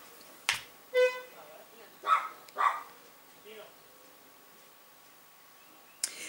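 A neighbour's dog barks in a few sharp, separate yaps, somewhat muffled as if heard through closed windows, with quiet gaps and a snap-like click between them.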